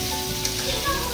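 Beef fries in a pan with a continuous soft sizzle and crackle, a faint voice heard underneath.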